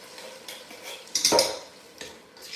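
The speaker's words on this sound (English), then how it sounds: "Quick little stir." Onions and a big can of tomato being given a quick stir in a pot: a short run of spoon scrapes and clanks against the metal, close and fairly soft.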